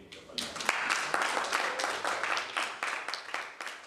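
A crowd claps steadily throughout, a dense patter of applause with a few voices mixed in underneath.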